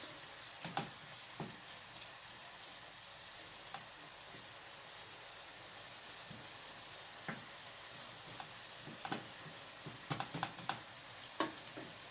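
Liver and rice stuffing left to cook in a pan, giving a faint steady sizzle with scattered soft ticks and pops over twelve seconds, no talking.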